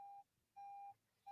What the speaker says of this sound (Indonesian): alarm saya bunyi